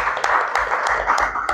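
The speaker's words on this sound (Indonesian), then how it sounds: "Kita kasih tepuk tangan untuk Pak Indra Adil" Audience applause for author Indra Adil at a book event for Cipinang Undercover, dense steady clapping from a room of people with a few sharper claps standing out, continuous and fairly loud throughout.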